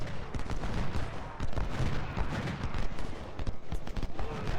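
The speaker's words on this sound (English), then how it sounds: "Okay, there's more blasted artillery." Civil War battle in the strategy game Ultimate General: Civil War, with dense rolling gunfire and booming artillery blasts overlapping in a continuous barrage of loud, ragged cracks and thuds.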